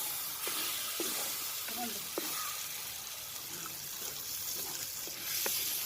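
A 7.5 kg fish head curry is stirred in a pan over a steady soft sizzle, with light scraping clicks from the stirring and a faint voice underneath.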